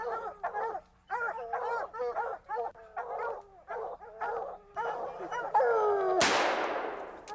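Hunting dogs at a bear hunt bay and yip in rapid, overlapping barks close by, ending in a single loud, sharp rifle-like bang.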